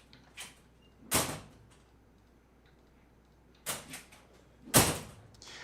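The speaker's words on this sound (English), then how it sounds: "So I like a couple of these door sounds that I've just heard" Heavy door foley for an animation: several separate loud thuds and slams with creaky edges, spaced a second or more apart against a quiet background, close and unaccompanied by talk.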